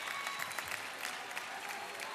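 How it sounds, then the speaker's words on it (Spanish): Dense applause fills a hall as a university sports-games opening ceremony greets arriving delegations, a continuous wash of many hands heard at some distance, steady and without speech. "Me gusta esa competencia de aplausos"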